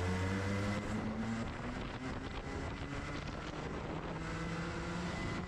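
Racing karts capable of 70mph roll to the start at Daytona Sandown Park, a steady close engine drone with rising and shifting pitches under heavy wind buffeting, no talk.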